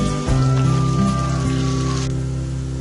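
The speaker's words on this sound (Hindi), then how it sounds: "प्याज ऐड कर देंगे और प्याज को फ्राई कर लेंगे।" Chopped onions sizzling in hot ghee, a loud, steady, dense crackle close up, with a low hum underneath throughout.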